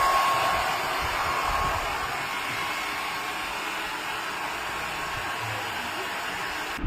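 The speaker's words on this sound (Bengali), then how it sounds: "লোমগুলো সরিয়ে সরিয়ে খুব ভালো করে এইভাবে ড্রায়ার দিয়ে ড্রাই করবেন" A handheld hair dryer blows steadily on a dog's fur after a bath, a loud continuous whoosh that runs unbroken for several seconds and cuts off sharply at the end.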